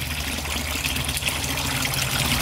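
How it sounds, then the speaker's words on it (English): A backyard pond waterfall gives off a steady close splashing and trickling of falling water, continuous and even throughout with no voices. "Wow, that thing is quite the waterfall"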